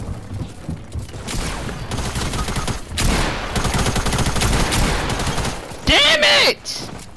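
Rapid semi-automatic rifle fire in a shooter video game, dense loud volleys of shots in repeated bursts, mixed with game sound effects and a brief tonal chime near the end.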